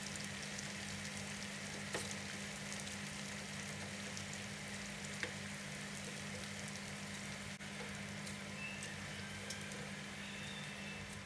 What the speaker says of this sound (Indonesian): digoreng sampai warnanya kecoklatan, baru nanti saya akan angkat ya